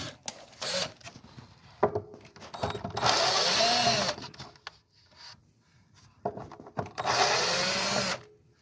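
Screws being backed out of the lugs of a Ludwig gold sparkle bass drum during restoration, with two long bursts of a small power driver whirring between scattered metallic clicks and handling noises, close by, no voices.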